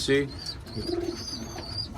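Homing pigeons on a porch loft cooing softly with low, wavering calls through the clip, a brief voice speaking at the start and bird chirps in the background.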